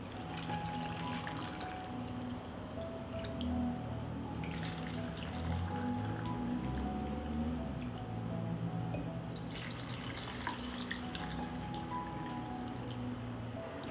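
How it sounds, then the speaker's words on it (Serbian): Cold water runs into glass jars packed with washed sour cherries, a soft continuous pouring and trickling close by, steady and fairly quiet throughout with no talking. "Tegle ću napuniti sa hladnom vodom."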